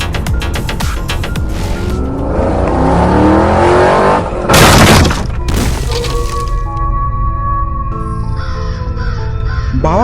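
A motorbike ridden in a Kamla horror video game, its engine humming and droning through a busy, noisy game scene with crows cawing and a brief crash partway through.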